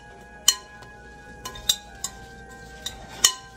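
Spoon clinks against a pot or bowl while Westfall Stew ingredients with brown sugar are stirred, a handful of sharp, fairly close ticks spread irregularly over a quiet background.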